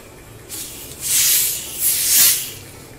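A portable picnic gas stove burner hisses hard on a fresh gas canister, with a soft start and then two loud surges of bright, airy hissing close to the microphone.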